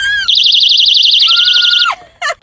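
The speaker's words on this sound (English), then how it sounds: "this little personal alarm. If you pull this, it's going to sound." A handheld personal safety alarm, set off by pulling it, wails loud and piercing with a rapid warbling electronic tone for nearly two seconds, cuts off, then gives one more short shrill burst.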